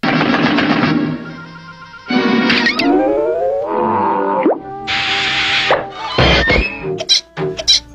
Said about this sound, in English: And let's not forget those iconic sound effects.